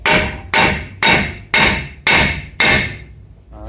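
A hammer strikes a front brake rotor on a Hyundai Santa Fe six times at a steady half-second rhythm, each sharp metallic bang ringing briefly before the next, close and loud with no talking.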